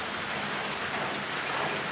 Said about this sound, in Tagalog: Tapos umuulan na naman.